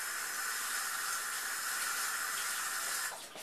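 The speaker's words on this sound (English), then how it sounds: "Just wash my hands here." Tap water runs steadily into a sink while hands are washed, a close, even rushing hiss that carries on alone before tapering off and breaking up at the very end.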